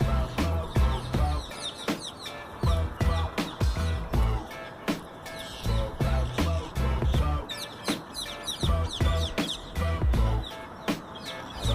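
A flock of birds calls and chirps from a tree, dense overlapping clucking and tweeting notes in quick irregular bursts, fairly close and continuous.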